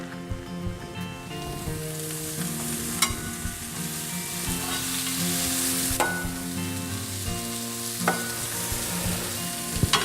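Mushrooms, peppers and onions sizzle steadily in a hot pan for a Texas Wagyu cowboy cheesesteak, with spatula scrapes and clinks breaking through the continuous frying hiss.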